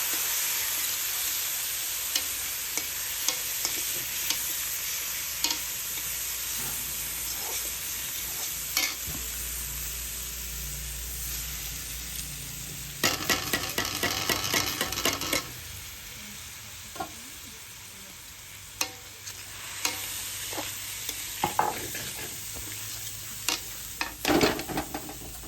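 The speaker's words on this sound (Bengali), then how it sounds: "তারপর মসুর ডাল আর গোবিন্দভোগ চাল দিয়ে একটু ভেজে নিলাম।" Red lentils and Gobindobhog rice toast in a pan for khichuri with a steady, close sizzle. Scattered clicks and scrapes of a stirring spoon break through, with a busier rattling stretch partway through, and no one talks.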